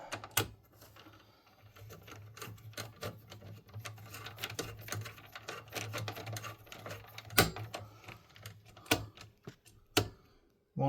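Screwdriver tightening spring-loaded CPU cooler screws inside a Dell OptiPlex desktop PC, a close run of rapid clicking, ratcheting ticks and scraping with a low hum underneath, ending in a few sharper clacks.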